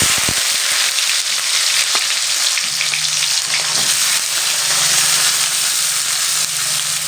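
Chopped onions hit a hot pan with garam masala for a Bengali egg omelette curry, giving a steady, close sizzle that continues on its own with no talking.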